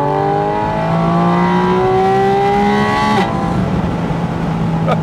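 A Porsche 718 Spyder RS engine revs loudly above 3000 rpm, rising in a smooth, high, singing wail before a sharp cut, then settling to a lower drone.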